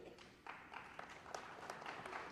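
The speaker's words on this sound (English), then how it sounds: "Please applaud if you know who Arne Duncan is." Faint, distant applause from a college commencement crowd, a thin scattered patter of clapping continuing throughout.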